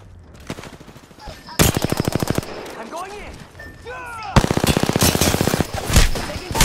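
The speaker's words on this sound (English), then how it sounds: "Multiple people shooting at me." Rapid automatic gunfire from the video game Apex Legends rattles in loud sustained bursts, separated by shorter shots and weapon handling sounds, with brief talk between the volleys.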